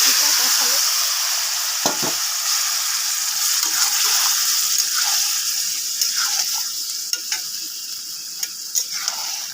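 Onion and jackfruit fry steadily in a pan, a continuous close sizzle broken by occasional clinks and scrapes of stirring, with no talk.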